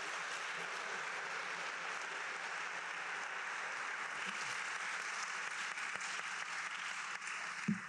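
An audience at a panel event on de Valera in Boston and Ireland-U.S. relations applauds to welcome the moderator and panelists, a steady sustained wash of clapping from a sizable crowd that continues evenly throughout.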